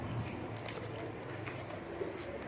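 A pair of Fakir Gul pigeons, a male and a female, coo softly with low rounded calls repeating over steady background noise.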